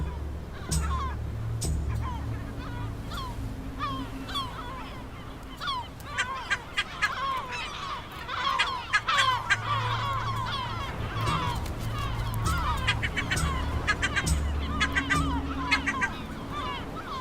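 A gull colony on barren volcanic rock off El Hierro calls continuously, a dense chorus of overlapping squawks and honking cries with a steady low background rumble.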